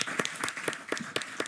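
Audience applause greets a singer ahead of his number, heard as a brief, fairly quiet spell of clapping with regular sharp claps standing out.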